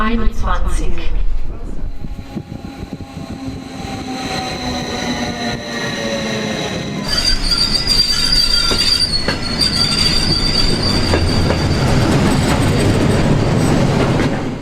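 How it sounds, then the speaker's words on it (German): A Rhaetian Railway regional train bound for Pontresina and St. Moritz departs on the Albula-Bernina line, with loud nearby wheel squeal, rumbling and rhythmic rail clatter building as it moves off, and a voice heard over it. "Es folgt der Regio nach Pontresina, St. Moritz, fahrplanmäßige Abfahrt 14:21 Uhr."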